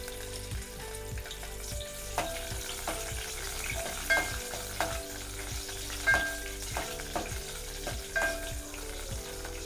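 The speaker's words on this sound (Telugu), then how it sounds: "వేసుకొని అందులో కొద్దిగా ఆయిల్ పోసుకొని ఇంకా పచ్చిమిర్చి వేసుకొని వేయించుకోవాలి" Green chilies fry in a little oil in a pan, with a continuous sizzle and regular spatula taps and scrapes, plus a low steady hum beneath.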